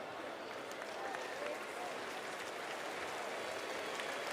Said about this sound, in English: everybody's clapping it off